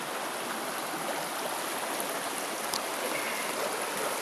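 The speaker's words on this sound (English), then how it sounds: "So any fast flowing streams that you get, stuff like that is really pretty." A fast-flowing mountain stream on the Georgia section of the Appalachian Trail gives a dense, steady rushing roar, close and continuous, with no voices.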